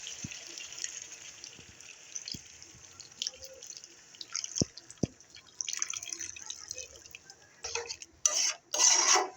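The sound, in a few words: water added to chicken meat being cooked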